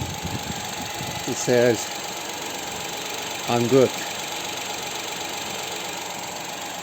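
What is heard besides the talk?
Toyota Aygo 1-litre 1KR-B engine idling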